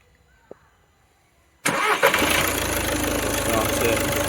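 A VAG 1.6 TDI diesel engine with a no-boost fault cranks and catches abruptly after a quiet pause with one faint click, then settles into a steady, loud diesel idle close by.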